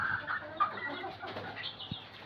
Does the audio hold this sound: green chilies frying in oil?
no